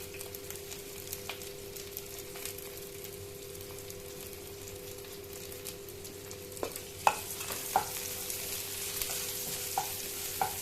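Urad dal, chana dal, cumin and dried chillies dry-roasting in a pan, a faint low crackle with scattered ticks and sharper stirring scrapes toward the end.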